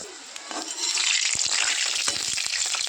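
Snail-shaped pitha dropped one by one into hot oil in a kadai, with a dense sizzle that swells after the first second and small clicks of the pieces and utensil, no talking.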